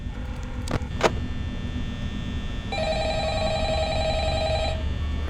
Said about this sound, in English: We have a phone call to listen to.